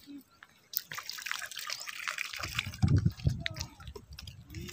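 Cold water splashes and trickles over hands being washed with soap at a small waterfall, a steady close running-water wash that grows heavier in the second half, with voices faintly in the background.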